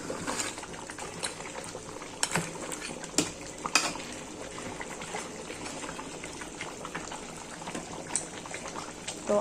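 Beef curry simmering and frying in a pot, stirred now and then, with a steady low bubbling sizzle and occasional clinks and scrapes of a spoon against the metal.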